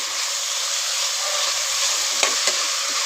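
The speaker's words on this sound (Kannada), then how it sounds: "ಒಂದು ಕಪ್ಪು ಕೊತ್ತಂಬರಿ ಹಾಕ್ಕೊಂಡಿದ್ದೀನಿ ಇದನ್ನು ಅದ್ರ ಒಟ್ಟಿಗೆ ಚೆನ್ನಾಗಿ ಫ್ರೈ ಮಾಡ್ಕೋಬೇಕು" Mint and coriander leaves fry for pulao with a steady, close sizzle and hiss, broken near the end by two sharp clinks of a spoon against the pan.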